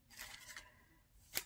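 A wrapper crinkles while an artisan subscription box is unboxed, with a few soft, close rustling bursts followed by a brief quiet and then one sharp crackle.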